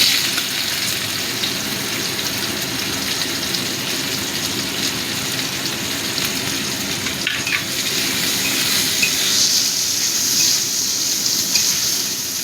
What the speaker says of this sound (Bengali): এবার আমি প্রথমে পেঁয়াজ কুচিটা দিয়ে দিচ্ছি